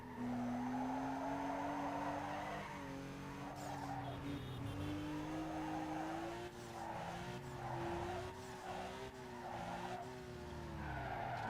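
Tires squeal continuously as a car drifts downhill in Need for Speed Underground 2, a loud sustained whine that bends in pitch over steady engine roar, with no talking.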